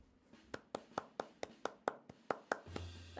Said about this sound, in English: That's my round of applause there